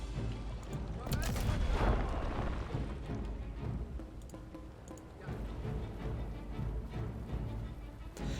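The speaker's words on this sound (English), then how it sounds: "Alright, artillery bombardments. Fire into" Artillery bombardment in the strategy video game Humankind, with a heavy boom up front followed by rolling, rumbling blasts and crackling explosions that rise and fall over several seconds.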